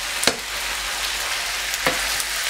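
Shredded cabbage frying in a pan for Austrian Krautfleckerl, a steady close sizzle with a couple of sharp scraping stirs, no voices.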